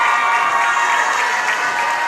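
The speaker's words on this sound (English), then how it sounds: "Big round of applause here for the Lyon County starting 5" A basketball crowd in a gym applauds the Lyon County boys' starting five, with a steady, dense wash of clapping and faint crowd noise, loud and continuous.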